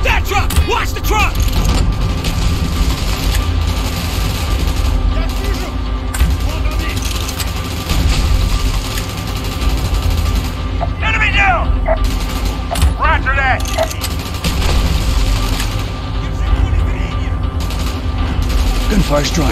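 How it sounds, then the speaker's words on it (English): Continuous Call of Duty: Black Ops combat with bursts of gunfire over a loud, dense mix of rumbling and mechanical clatter, with occasional voices shouting. "Gunfire's drawing attention."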